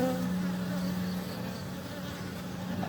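Wild Apis cerana bees hum in a steady, low buzz that persists evenly throughout, fairly faint and close, with no clear voices over it.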